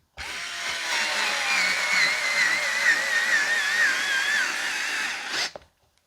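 A rechargeable electric screwdriver drives a screw with a steady, high whining motor that wavers slightly under load for about five seconds, then cuts off abruptly into silence.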